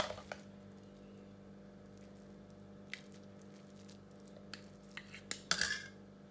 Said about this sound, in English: fill the jollof rice in the cup